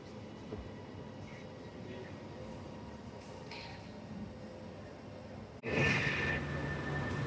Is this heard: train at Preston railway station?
yes